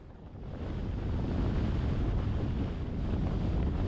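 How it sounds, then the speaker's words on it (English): Strong, cold wind buffets the microphone in Quartzsite, a loud, continuous low rumble that swells in the first second and then holds steady. "Really windy, though. Really cuts through you."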